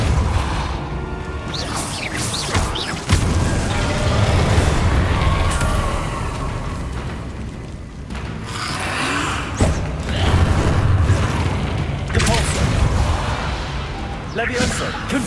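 Spellcasting in Hogwarts Legacy, including Repulso, shows up as a series of loud crashing, slamming impacts and whooshing bursts. Some hits come in clusters and others stand alone, over a rumbling low game soundscape.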